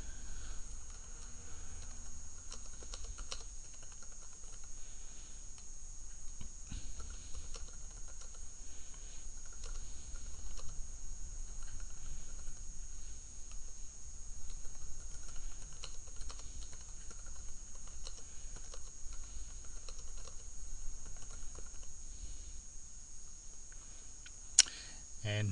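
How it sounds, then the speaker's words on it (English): Steady typing on a computer keyboard fills the clip, a quiet continuous patter of key clicks with short pauses, close and soft with no voice over it. "let's go and create a new document. Okay, so we'll just type in some"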